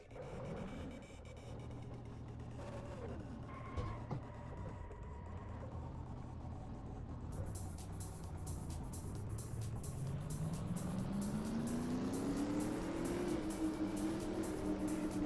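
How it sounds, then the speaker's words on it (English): Several race car engines in a racing video game start up and settle into a steady idle, then rev and rise in pitch together, a dense continuous engine roar throughout. "Drivers, start your engines."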